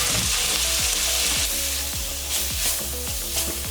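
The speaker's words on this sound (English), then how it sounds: "Mix everything together like so." Cumin and onions fry and sizzle in a pan for a lentil cottage pie, with a steady broadband hiss and repeated scraping stirs of a spoon close up, and no voices.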